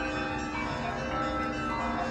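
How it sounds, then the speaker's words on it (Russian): Church bells ring from across the way in Kostroma, a steady sustained peal with layered overlapping tones that carries on without a break, moderately loud and heard alone. "оттуда тоже звук идет колоколов с той стороны"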